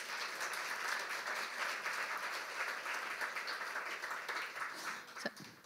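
Steady applause from a church congregation, fairly even and sustained throughout, with no speech over it.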